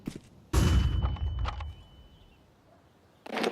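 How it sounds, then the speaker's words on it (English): A flashbang grenade goes off in a shooter video game as a sudden loud, broadband blast followed by a sustained high ringing tone that fades over about two seconds, then another burst of noise cuts in at the end. "Throwing flashbang."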